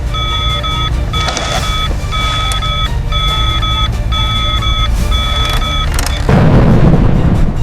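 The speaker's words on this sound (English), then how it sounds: "The alarm sound echoes." A repeating electronic alarm tone pulses in steady short bursts over a loud rumbling drone, ending in a heavy low blast.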